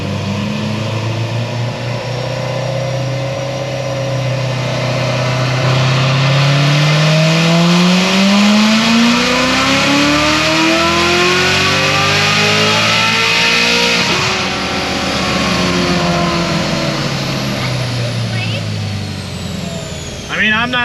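A loud tuned car engine revs steadily upward under load on a dyno for a long cold pull, pitch climbing, then dropping off as the revs fall; a voice talks over it.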